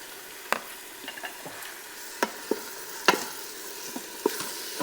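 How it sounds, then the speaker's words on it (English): Kielbasa dropped back into a hot pressure cooker pot while spaghetti cooks, with a steady low sizzle under scattered sharp clinks and taps of a utensil against the pot, close and fairly quiet. "I'm going to put back the kielbasa."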